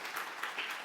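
Applause from a conference audience for the abstract presenters at a spine meeting, a brief, fairly quiet patter of clapping with no talk over it.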